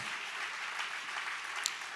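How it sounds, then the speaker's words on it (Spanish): A church congregation claps for the Lord during a sermon, producing a soft, continuous wash of applause at moderate distance with one sharper clap near the end, and no voices over it. "Dale fuerte ese aplauso a nuestro Señor."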